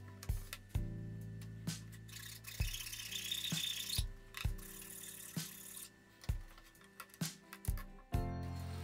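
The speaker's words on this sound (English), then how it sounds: "Cleanup with a chisel and file was necessary since not enough material was hogged out by the dado stack" A chisel and file clean up a wooden half-lap joint for a poster frame: a series of rasping strokes and sharp scraping taps, close and irregularly spaced, with short pauses between them.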